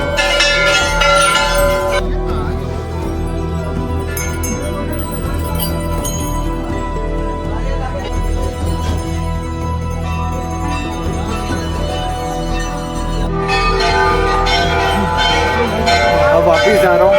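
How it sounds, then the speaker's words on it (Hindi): Many small metal temple bells ringing in a crowded Nainital hill-station temple, bright overlapping chimes under steady chatter and a loud voice talking nearby throughout. "सब जगह घंटियाँ घंटियाँ, सब जगह घंटियाँ"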